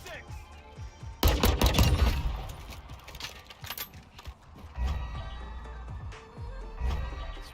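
Heavy machine gun fire in a video game hammers out in rapid bursts, loudest early and returning in shorter volleys, with clattering mechanical noise and a voice talking over it.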